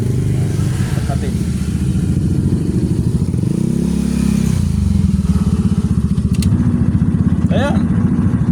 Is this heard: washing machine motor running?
yes